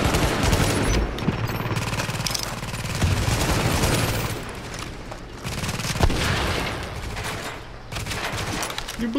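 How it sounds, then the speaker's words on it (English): Dense, loud bursts of Classic FAL rifle fire in the shooter game The Division, with rapid shots and booms running nearly continuously. "Need some suppressive fire because this gun's not gonna cut it by itself."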